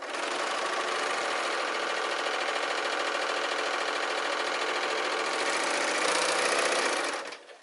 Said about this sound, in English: right sides together, and then folding it down to create the sandwich, sewing that